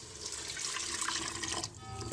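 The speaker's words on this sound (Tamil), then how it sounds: "நம்ம 1/2 லிட்டர் எடுத்து வச்சுருக்க தண்ணி ஒரு 1/4 லிட்டர் ஆட் பண்ணுவோம்." About a quarter litre of water streams steadily into a pan of vegetable salna curry, a soft continuous pour that trails off near the end.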